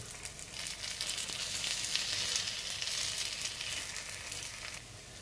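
White sorghum millet bites fry in a pan with a steady, dense sizzle of hot oil that holds at an even level throughout, with no talking.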